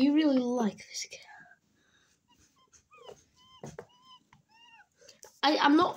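A cat gives a few faint, high meows with long quiet gaps between them, while a person speaks close by at the start and again at the end.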